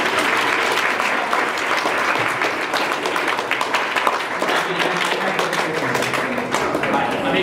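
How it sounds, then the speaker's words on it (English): Dense, steady applause from a banquet audience at a high school boys varsity water polo awards event, sustained and fairly loud throughout with no break. "Let's have a round of applause."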